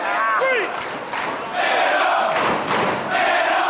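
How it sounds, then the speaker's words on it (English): Wrestling crowd at a Ring of Honor show chanting in unison at the tag team champions, loud rhythmic voices filling the arena with some thuds and shouts mixed in. "The crowd chants "Man up" at the World Tag Team Champs"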